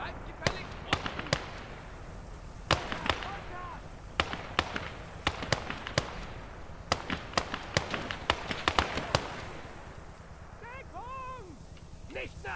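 Gunfire in the video game Gates of Hell on a Germany versus USSR battlefield, scattered sharp distant shots and cracks at irregular intervals, with voices calling out near the end.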